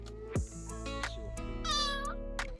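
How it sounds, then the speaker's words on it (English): A kitten meows repeatedly in high, rising cries, close and clear, with short pauses between calls and no talking. "This is Chaco, the kitten we rescued before the renovation started."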